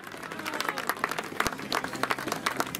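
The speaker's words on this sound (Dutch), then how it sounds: "graag een stevig applaus voor deze kleppers in spe" Audience applause for young duathlon competitors aged 12 to 15 at a kids' duathlon in Retie, steady dense clapping from a crowd with sharp individual claps standing out near and far throughout.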